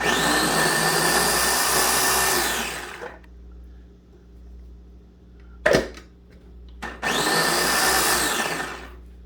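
A food processor whirs loudly for about three seconds chopping kale, stops, then starts again after a short clatter; a steady low hum runs underneath.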